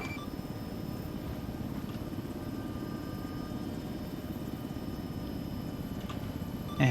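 A Chinook helicopter in a military video game drones as a steady rotor hum throughout, moderately loud and unbroken, with faint beeps in the background.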